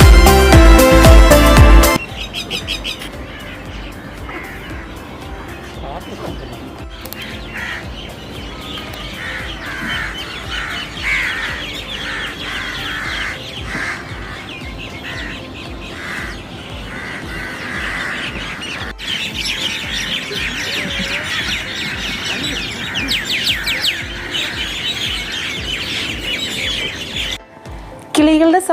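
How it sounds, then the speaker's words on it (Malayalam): Crows caw and other birds squawk and chirp at dusk in a garden park on a man-made desert island, overlapping calls near and far throughout, with a brief loud burst at the start. "നമുക്ക് കിളികളുടെ സൗണ്ടും ഒക്കെ ഒന്ന് കേൾക്കാം"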